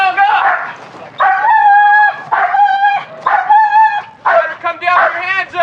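Police dog barking and yipping in repeated bursts during a tree standoff with a suspect, loud and close, with short gaps between barks and shouted voices mixed in.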